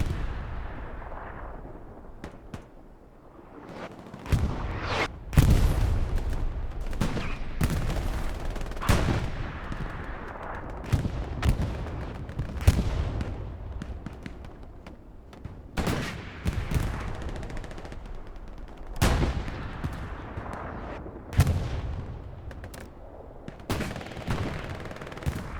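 Heavy battlefield barrage in Hell Let Loose on Omaha Beach, with rockets and artillery booming in repeated loud blasts at irregular intervals and gunfire scattered between them, some near and some more distant.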